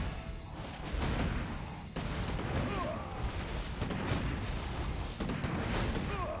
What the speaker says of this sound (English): 40 got the mortars coming